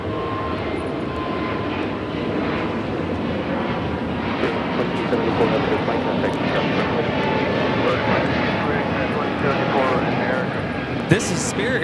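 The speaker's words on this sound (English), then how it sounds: "This is Spirit Airlines 2074 taking off to Baltimore on the A320neo." Spirit Airlines Airbus A320neo taking off at LAX, a broad, sustained engine roar that holds steady and swells slightly over several seconds, heard from a distance with faint talk underneath.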